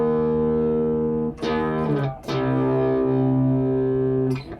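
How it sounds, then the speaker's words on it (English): A sustained electric guitar note run through the Shapr distortion plugin, with a re-picked note partway through, each note ringing with a dense, gritty tone that softens as it fades. "it smoothly transitions from one to the other, and even as the note fades,"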